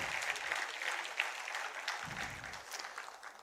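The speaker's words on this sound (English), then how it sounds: "So a round of applause" Graduates and guests at a commerce school convocation applaud their professors, a brief, steady burst of clapping from a large hall that tapers slightly at the end.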